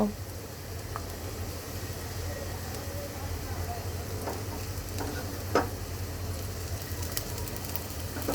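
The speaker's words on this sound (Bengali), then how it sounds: "পেঁয়াজটাকেও আমি সুন্দর করে ভেজে নেব" Chopped onions with garlic fry in oil in a pan, producing a steady, dense sizzle with occasional stirring scrapes and a brief clink midway, under a faint background murmur.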